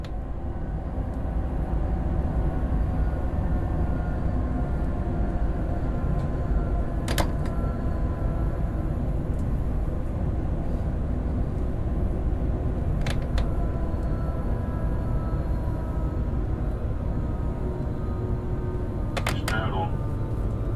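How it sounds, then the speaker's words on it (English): A train slowing as it nears a station, a steady low rumble and rolling drone holding loud throughout, with a few sharp brief squeals or clicks near the middle and end. "The train brake."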